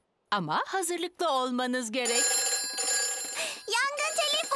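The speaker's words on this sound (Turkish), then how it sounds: "Yangın telefonu çalıyor." A telephone rings at a fire station in a Peppa Pig cartoon, a steady electronic ring starting partway through and continuing under cartoon voices speaking.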